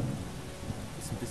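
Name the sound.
thunderstorm with rain in the video game Starbound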